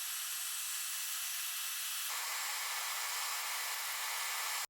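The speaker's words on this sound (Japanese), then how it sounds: "掃除機で吸い取っています。" A vacuum cleaner sucks soot off the wick of a Satake Glass kerosene burner used for glass beadmaking, a steady loud broadband hiss whose tone shifts partway through, then cuts off abruptly.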